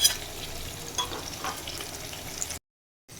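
Herbs frying in oil for a homemade hair oil, stirred until they darken, make a soft, steady close sizzle with light crackles for a few seconds before cutting off abruptly.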